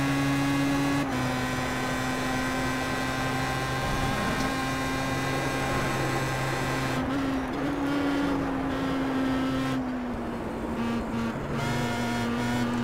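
Star Mazda race car in iRacing at Silverstone, engine droning loud and steady, with pitch shifts as it downshifts into a right-hander.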